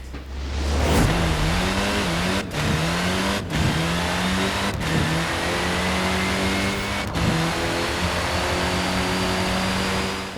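A car engine in a street racing video game on the Glenfinnan stage revs loud and close, climbing through the gears with sharp drops at each of several shifts, continuous with no voices.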